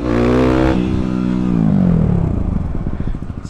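Motorcycle engine revving hard during a wheelie attempt, a loud near roar that holds then drops in pitch and fades into rough, uneven idling sputter.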